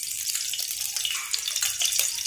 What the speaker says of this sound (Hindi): अब मैं इसमें तेल डाल लेती हूँ